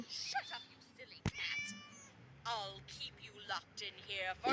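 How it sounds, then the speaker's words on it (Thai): Several meows from a cat in the video game Scary Teacher 3D ring out in quick succession, some drawn-out and wavering, while a person talks intermittently in between. "อุ้ยเสียงแมว แมว เสียงแมวด้วยทุกคน"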